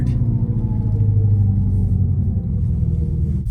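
A 2024 Dodge Charger electric car, rated at over 450 hp, plays its artificial engine sound, a deep, steady rumble like a Hemi V8 idling. It sounds loud and close and holds constant for a few seconds.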